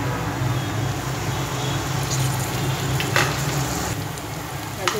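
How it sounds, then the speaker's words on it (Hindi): Garlic paste and onion frying in a pan for stuffed capsicum, giving a continuous close sizzle with a few faint clinks of stirring and no talk. "अभी लहसुन और प्याज अच्छी तरह से भून चुके हैं।"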